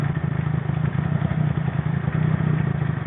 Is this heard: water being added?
no